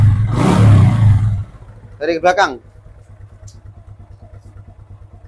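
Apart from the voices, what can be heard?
motorcycle engine revving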